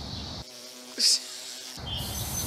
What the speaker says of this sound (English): Oh, sorry, I just had a bee on me.